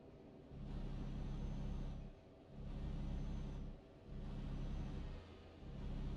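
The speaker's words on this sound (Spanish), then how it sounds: "Vale, ahí viene mucho coche." Cars passing on a road at night, heard as a series of four low rumbling swells, each rising and fading as a vehicle goes by, moderately close and steady.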